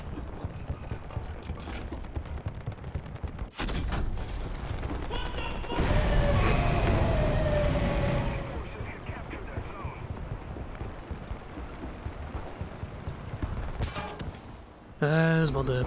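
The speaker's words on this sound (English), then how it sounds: "It's just more than one guy shooting me." Rapid bursts of gunfire strike a Sturmpanzer IV Brummbär tank in War Thunder, with dense crackling impacts and heavy rumbling blasts lasting throughout, loud and close, plus a few sharp metallic hits.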